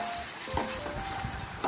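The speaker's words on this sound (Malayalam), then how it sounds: "അതിൻ്റെ പച്ചമണം മാറുന്നവരെ നല്ലതായിട്ട് വഴറ്റുക." Kashmiri chili powder sautéing in a pan for gobi manchurian, giving a low steady sizzle with occasional soft stirring scrapes, faint and close, with no voices.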